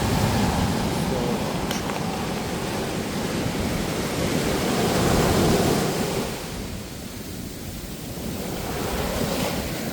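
Sea surf at Varkala beach in Kerala, a broad, steady roar of breaking waves with gusts of wind buffeting the microphone, swelling and then easing slightly, with no talk.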